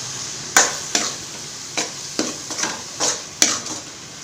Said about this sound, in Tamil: இப்போ இது வதங்கட்டும்